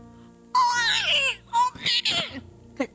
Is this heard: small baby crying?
yes